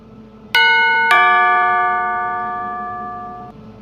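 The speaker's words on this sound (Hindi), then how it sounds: "तू एक बार और घंटी बजा, शायद अब सुन ले।" A doorbell chimes twice in quick succession, two bright ringing tones close by whose ring then fades slowly in a quiet room.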